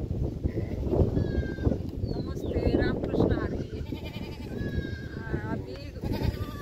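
Sheep and goats bleating in a scattered chorus while let out to graze, several calls overlapping, mixed with people talking and outdoor background noise.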